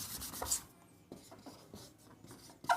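A maths equation being written on a board in a classroom lesson: a run of quick scratchy strokes, close and fairly faint, with a short pause midway and a sharper stroke at the end.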